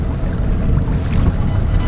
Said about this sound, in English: Doing a test run with the engine.